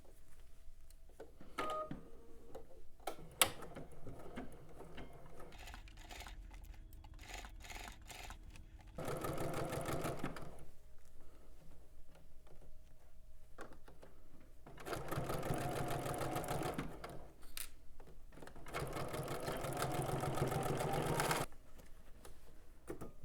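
A sewing machine stitches the corner of a McCall's M8414 garment, with scattered clicks and handling noises followed by three sustained, steady whirring runs of stitching at close range.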